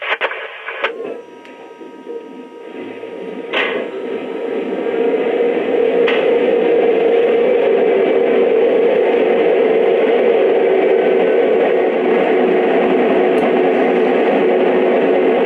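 Model train locomotives, Lionel EMD SW8 switchers, start up: a mechanical whirring and humming builds after a few clicks, rising to a steady, continuous motor drone that holds loudly to the end.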